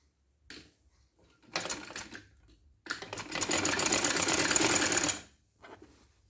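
A sewing machine stitches two shirt shoulders together in short bursts, a brief run followed by a longer steady whir, close and alone.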